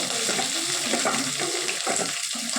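Peanuts, ginger, garlic and chana dal frying in a pan for semiya upma, a dense continuous sizzle and crackle with scraping stirring throughout.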